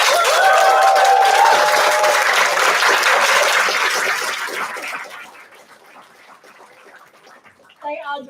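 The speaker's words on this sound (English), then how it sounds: "So another round of applause for our 30 under 30." An audience at an awards ceremony breaks into dense, loud applause that holds steady for several seconds and then thins out and fades. A brief voice comes in at the very end.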